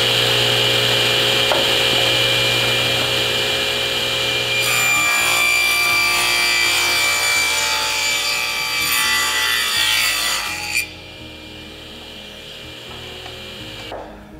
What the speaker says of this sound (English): So I'm gonna go ahead and cut one of those,